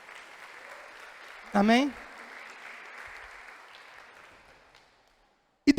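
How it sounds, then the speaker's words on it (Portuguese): A church congregation applauds in a steady, soft wash of clapping that runs for several seconds before cutting off, with a voice briefly calling out over it. "Quem pode aplaudir o Senhor por essa palavra?"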